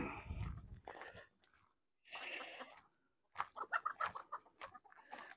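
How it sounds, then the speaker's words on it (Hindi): Chickens and roosters on a hillside farm cluck and squawk in short, irregular bursts from close by, with quiet gaps between the calls. "ये मुर्गे हैं, और एक ग्रुप यहाँ खड़ा है मुर्गों का"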